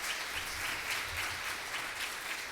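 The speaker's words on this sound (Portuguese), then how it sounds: "Dá um forte aplauso a Jesus aí" Dense, continuous applause from a church congregation fills the space, a steady wash of many hands clapping at once with no voices on top.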